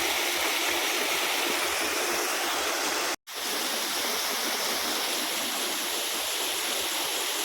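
A waterfall roars in a steady, dense rush of water that fills the whole clip, broken only by a split-second dropout partway through.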